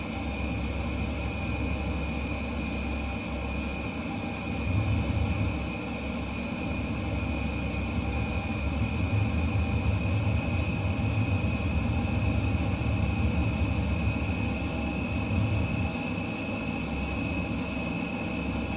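An F-15 jet in Microsoft Flight Simulator 2020 makes a steady engine roar with a constant whine while landing, broad and continuous at moderate level throughout, with no talking.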